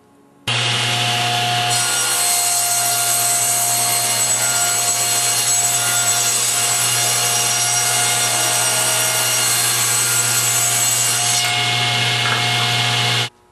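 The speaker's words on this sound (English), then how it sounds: "First, I trim approximately 1/16 of an inch off one edge of the board." Table saw trimming a thin strip off the edge of a wooden board: the motor spins up, then the blade cuts steadily with a loud whining rasp for about ten seconds before it winds down.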